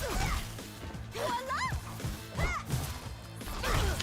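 Fighting-game hit effects from Them's Fightin' Herds during a Shatter C attack: several sharp smashing impacts and whooshes with swooping tonal effects, mixed with excited commentary and game sounds.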